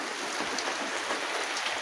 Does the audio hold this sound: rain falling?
yes